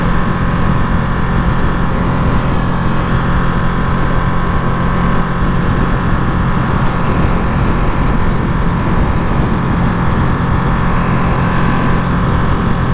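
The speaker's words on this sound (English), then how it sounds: "This bike sounds so different." A 2023 Limited Edition Ducati Panigale V2 Troy Bayliss being ridden, its engine a loud, unbroken droning roar mixed with wind rush and held at a steady pitch throughout.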